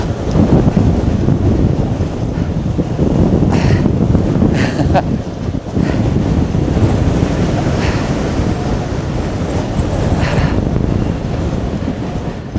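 Heavy wind buffets the microphone with a constant loud rumble and roar, gusting throughout, during a mountain bike ride around Wellington.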